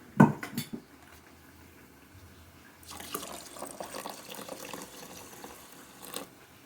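Thin coconut milk poured into a pot of milk rice, a brief splash near the start and then a longer stretch of liquid trickling, splashing and light clinks of a pan from the middle to the end, with no talking.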